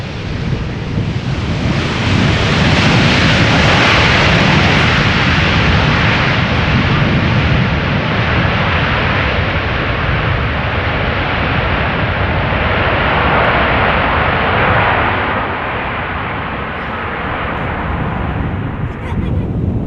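A Surinam Airways Airbus A340 lands at Amsterdam Schiphol Airport on its last visit, a loud, broad jet roar heard outdoors with wind buffeting, swelling and holding before easing away toward the end.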